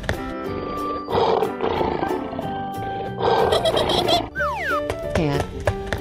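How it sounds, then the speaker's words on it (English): A lion roars in a children's animal painting game: a long, rough roar rises and falls under bouncy background music, then ends with sliding cartoon boing effects. "Lion."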